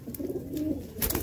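Pigeons coo in a breeding loft where birds sit on eggs and chicks in nests, a steady low cooing running throughout with a brief brighter burst near the end.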